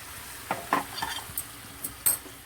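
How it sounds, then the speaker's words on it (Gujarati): Masala is stirred and fried in a pan over a low gas flame, giving a few sparse utensil scrapes and clinks over a faint, quiet sizzle. "મિક્સ કરી અને ચેડવી લેશું જેથી આપણો મસાલો બળે"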